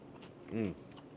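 One short crunchy bite into spicy cucumber salad with onions, close and quiet, a single crisp chew lasting well under a second against a soft room background.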